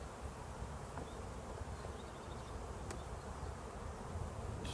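A dense, steady buzzing of many honeybees at an open hive close by, continuous and even in level throughout.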